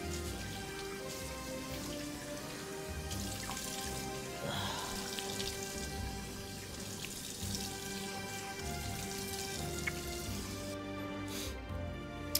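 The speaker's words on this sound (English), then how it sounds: "So I'm gonna rinse up my head. Get rid of that lather that I have here." Water runs and splashes steadily while shaving lather is rinsed off a head after a traditional wet shave, with a continuous close patter like a tap over a sink and no talking.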